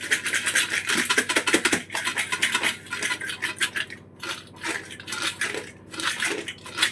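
A plate is set down over a dish of freshly salted masala in a home kitchen. Close, continuous clinking and scraping of steel utensils and crockery comes in irregular bursts, with no talking.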